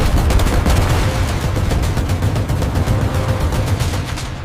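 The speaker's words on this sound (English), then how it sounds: "the AK-630, a 30mm Gatling gun. Controlled by a fast-tracking radar." An AK-630 30mm naval Gatling gun, a radar-controlled close-in weapon, fires a continuous rapid roaring burst of dense, rumbling shots lasting several seconds, loud and heavy.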